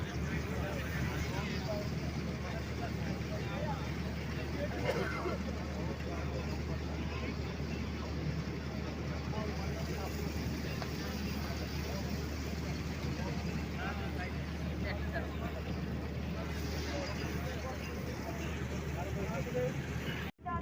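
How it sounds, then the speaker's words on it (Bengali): Passenger launch boat cruising from Mongla port toward the Sundarbans, a steady low engine drone with wind and water noise beneath people talking. "সুন্দরবনের উদ্দেশ্যে লঞ্চ যাত্রা।"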